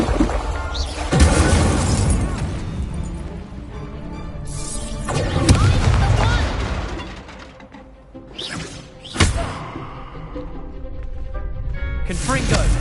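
Confringo blasting spells explode during a Hogwarts Legacy duel, with several loud crashing bursts spaced through the clip over game sounds and character voices.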